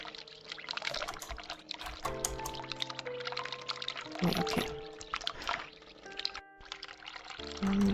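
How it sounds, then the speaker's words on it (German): Water runs from a sink in The Cat Lady, a horror video game, as a steady pouring and trickling stream. Someone speaks briefly over it, and other game sounds shift around the flow. "Lass das Wasser laufen."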